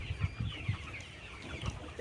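A few low, soft clucks from 72-day-old layer hens come in brief bursts over faint background hiss, nearby and quiet.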